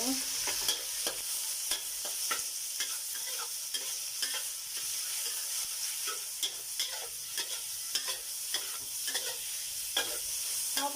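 Skinless pork belly sizzles in a frying pan with ginger and garlic, a steady bright crackle broken by repeated scraping stirs.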